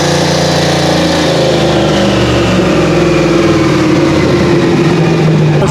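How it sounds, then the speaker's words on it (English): Turbocharged truck engine revving hard on a dyno, a loud sustained droning roar that climbs and holds against the rev limiter, steady and close throughout. "I think it downshifted and then just hit the limiter"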